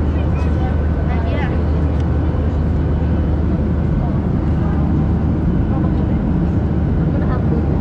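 Steady broadband roar of an airliner cabin in cruise on a flight to Rhodes, Greece, about half an hour after takeoff, a constant loud drone filling the whole clip with faint voices murmuring underneath.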